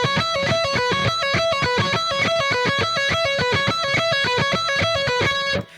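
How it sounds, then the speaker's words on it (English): A distorted electric guitar plays a metal lick at a slowed tempo, a fast, even run of picked notes repeating in a tight pattern, loud and solo, ending abruptly. "I'm going to slow it down a little, but it's going to sound like this."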